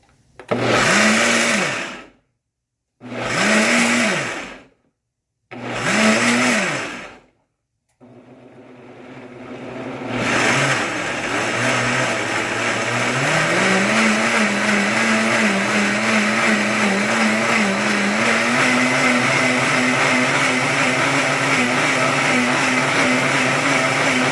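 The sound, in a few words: blender pureeing corn and water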